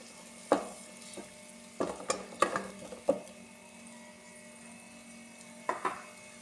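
A paste of coriander, green chili, ginger, garlic and shallot is stirred in a pan, scattered spoon scrapes and clinks over a soft sizzle, close, with no voices.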